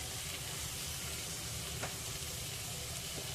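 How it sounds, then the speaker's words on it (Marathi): Pieces of jitada fish frying in a spiced masala for an Agri-style curry, giving a steady, close sizzle with light stirring throughout and no voices. "हे तुकडे आपल्याला मसाल्यामध्ये असे मिनिटभर परतून घ्यायचे"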